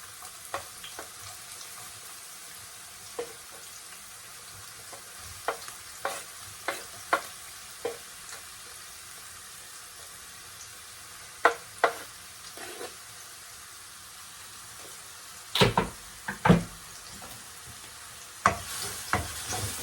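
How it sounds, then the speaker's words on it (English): Onions go into two to three tablespoons of hot olive oil for a Jamaican-style vegetable casserole, giving a soft, steady sizzle broken by scattered sharp scrapes and clicks of stirring, some clustered near the end, with no talking. "So now I'm gonna get the onions in for this."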